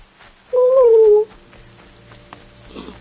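A person vocally imitates a turkey call while playing Horizon Zero Dawn: one short, loud, wavering gobble-like sound, alone against quiet game ambience.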